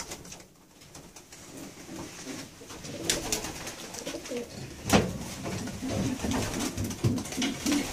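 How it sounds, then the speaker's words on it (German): Female homing racing pigeons cooing softly nearby in a loft, repeated low throaty coos with rustling and a few louder calls, no talk. "Eine sehr ruhige Täubin, mit der man richtig gut arbeiten kann."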